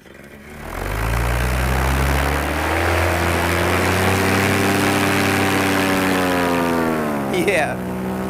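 A propeller aircraft engine spools up from quiet to a steady, loud droning hum with rising harmonic tones, holding strong for several seconds before a brief swishing sweep near the end.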